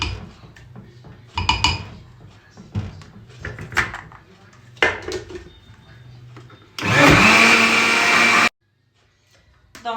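An electric blender mixes batter for Tunisian brik pastry sheets, a loud steady whir of about two seconds that stops abruptly, preceded by kitchen clatter and a voice speaking.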